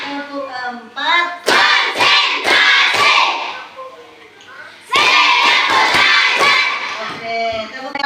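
A group of people, likely in a classroom coaching session, claps along in bursts to counted chants, with rhythmic hand claps mixed under loud shouted voices.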